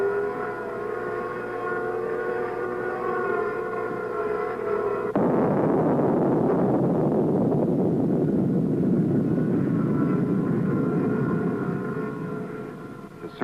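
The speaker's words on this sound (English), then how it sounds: "Vela Program's geophones provide a dramatic record of the noises beneath the Earth during and following the explosion." A geophone recording of the 1961 Project GNOME underground nuclear explosion gives a droning, tonal hum overlaid by buzzing helicopters flying overhead, then shifts to a broad, loud rumbling roar that slowly fades toward the end.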